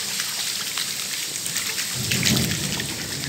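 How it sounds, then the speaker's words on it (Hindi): Heavy rain pours steadily while a low rumble of thunder swells in partway through, close and loud. "बादल बहुत गरज रहे हैं"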